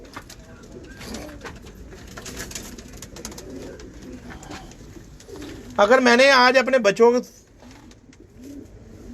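Pigeons coo on a rooftop loft, a loud, close burst of throaty warbling calls lasting about a second amid quieter rooftop ambience, with people talking nearby before and after.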